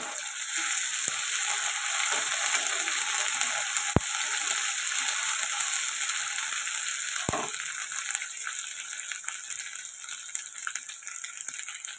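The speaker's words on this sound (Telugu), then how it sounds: "అల్లం వెల్లుల్లి పేస్ట్ కూడా ఫ్రై అవుతుందండి" Ginger garlic paste sizzles with onions in a pan for chana dal curry, a steady, loud, bright frying hiss throughout, broken by a couple of sharp clicks or taps of a spoon.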